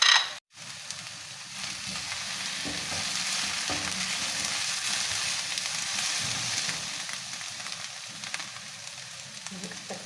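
Oil sizzles in a heated frying pan with a steady, close crackling hiss that lasts throughout, opening with a brief sharp click.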